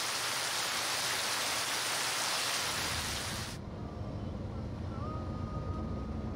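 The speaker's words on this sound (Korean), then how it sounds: "우기에나 내릴 법한 소나기가 지상의 더위를 잠시" A heavy rain shower pours down on Moorea island as a loud, dense hiss that abruptly eases into a softer, lower patter.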